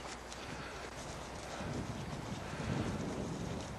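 A young four-year-old horse being restarted under saddle moves around a pen, with steady clip-clop of hooves and some wind noise throughout, fairly close and continuous.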